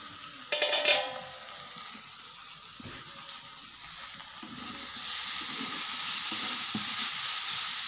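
Potatoes fry with turmeric and cumin in a pan for a ghugni, a steady close sizzle that brightens midway, with a burst of clattering stirring near the start and scattered scrapes throughout.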